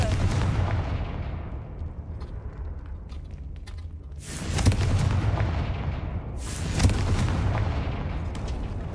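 Fiery spell blasts go off in the Hogwarts Legacy video game, two sharp, booming explosions a couple of seconds apart over a low rumbling game ambience.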